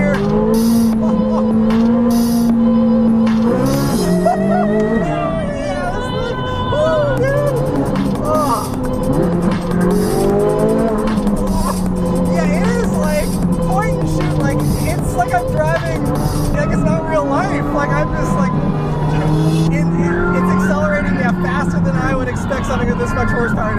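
A 2023 Chevrolet Corvette Z06 pulls hard in first gear, its engine note climbing in rising sweeps, loud and close from inside the car, with someone talking throughout.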